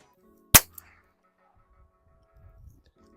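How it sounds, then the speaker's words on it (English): A single sharp gunshot fired at a thrown dummy during gundog training, close and loud, followed by a faint click and quiet shuffling, with another sharp sound just starting at the very end. "I'm going to fire at the dummy as it's going."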